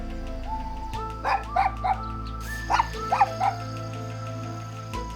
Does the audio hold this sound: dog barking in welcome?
yes